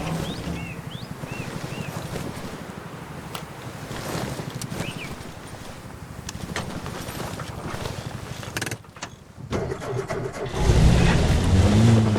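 A vehicle driving in the video game Arma Reforger: a continuous engine rumble with rattling, clattering mechanical ticks, close and steady, then a brief drop and a louder, rougher engine surge near the end.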